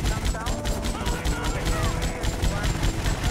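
Machine gun firing in the video game GTA Vice City: rapid, evenly spaced shots in a steady burst over game background noise.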